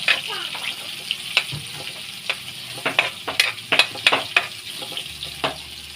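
Heart of palm (ubod) sizzling in a pan with ginger and garlic, stirred with a spatula that scrapes and clinks against the pan over a steady frying hiss, a few sharper knocks standing out.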